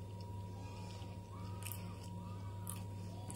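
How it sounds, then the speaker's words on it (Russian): Someone chews fried sausage with potatoes, black bread and mayonnaise, soft moist bites close to the mic over a steady background hum. "А я ем колбаску жареную."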